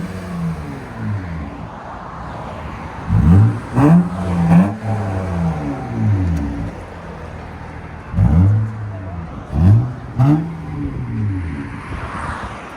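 A 2007 Acura TL with its 3.2L V6 and a muffler-delete exhaust revs hard in several sharp bursts: two quick clusters of climbing, falling blips close by over a steady idle, with no talking.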